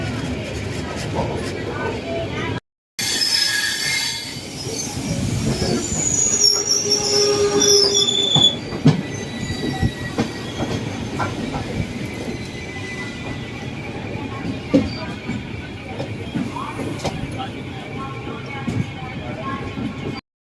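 An express train pulls into Vadodara junction, wheels squealing and rail cars rumbling loudly and steadily, with clickety-clack and a brief dropout near the start, under faint background voices.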